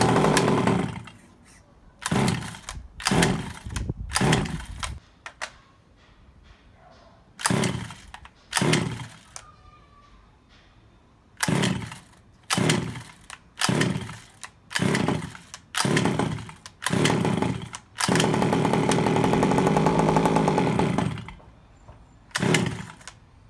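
Gas engine of a Rovan Baja 5B RC car sputtering through repeated short bursts, starting on the first pull without primer, then catching and running steadily for a few seconds near the end, loud and close with no talk.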